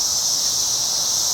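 Cicadas buzzing outside a house, a loud, continuous high-pitched drone that holds steady throughout, with no other sounds present.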